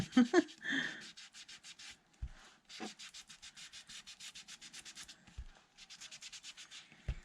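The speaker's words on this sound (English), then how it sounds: "So this is just tea dye distressing, and then do a bit of a sketch around the circle." Paper is rubbed briskly for tea dye distressing, giving fast rhythmic scratchy strokes in several runs with brief pauses and a few soft knocks, close and fairly quiet.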